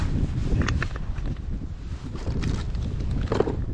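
Steady wind blowing across an outdoor camp cooking site, a continuous broadband rush with gusty fluctuations and a few faint clanks of cookware, no talking.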